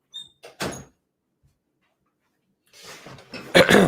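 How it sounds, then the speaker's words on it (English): A door opened indoors, with a short creak and thump near the start, a quiet pause, then louder scraping and rattling handling sounds at close range, no voices. "Hold on, I got to open the door."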